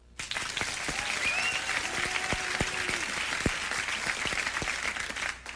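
Studio audience at a late-night Letterman comedy taping breaks into a full, even round of applause for several seconds, with a few louder individual claps poking through the crowd noise.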